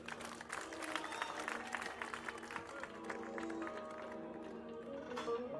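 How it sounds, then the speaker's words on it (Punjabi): Audience applause at a live stage performance, steady broad clapping from a crowd filling the whole stretch, with a faint voice or music tone running underneath. "ਤਾੜੀਆਂ ਮਾਰੋ"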